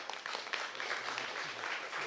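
Warm audience applause welcoming the head of a local coffee workshop before a talk at a museum coffee concert, moderate scattered clapping that fills the moment fairly evenly, somewhat distant, with a faint voice underneath.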